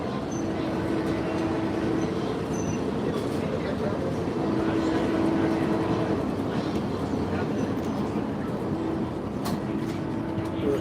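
A passenger train heading toward Greensboro, North Carolina, rumbles steadily from inside the car, its continuous low ride noise carrying a faint intermittent tone while a voice talks over it.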